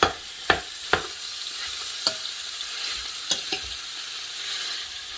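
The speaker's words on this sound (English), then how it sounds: "Okay, let's saute." Meat for chili sautéing in a pan, a soft steady sizzle broken by several sharp scraping and stirring knocks at irregular intervals, close and fairly quiet with no talking.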